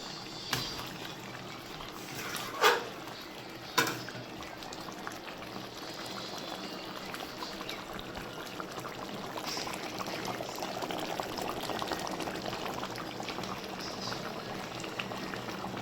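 Chicken biryani with rice in water boils in a pot, a steady soft bubbling hiss that runs throughout, with a couple of sharp knocks near the start.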